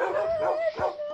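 Dogs bark in a Minecraft game, with a few short yips and whimpery calls over a steady tonal game background, close and moderately loud.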